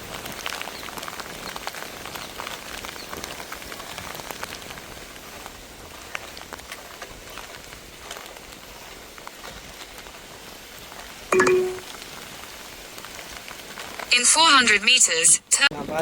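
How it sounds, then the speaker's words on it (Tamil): Heavy rain falls steadily in Jaffna, a dense continuous hiss with a few sharper clatters and bursts of noise near the end. "பார்த்தீங்களாண்டா மழை பெய்ய தொடங்கிட்டு"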